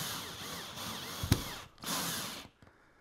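A power drill drives a 2.5-inch wood screw up into a ceiling structure while a ceiling fan bracket is mounted, giving a steady close whine with a sharp clunk midway, a brief pause, then another burst.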